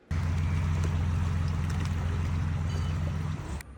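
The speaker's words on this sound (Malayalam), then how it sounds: "അങ്ങനെ ബോട്ട് വന്നത് ആ കായൽപ്പുറം ബോട്ട് ജെട്ടിയിലേക്ക് അടുക്കുകയാണ്" A government passenger boat nears the Kayalpuram boat jetty on a rainy backwater, its engine droning steadily and close by with water wash, then the noise suddenly drops away at the end.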